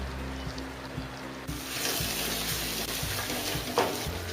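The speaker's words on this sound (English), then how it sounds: "Now this has started bubbling." Mixed vegetable gravy for a restaurant-style sabzi bubbling and sizzling in a pan, a steady close simmering hiss with soft popping and a faint low hum beneath.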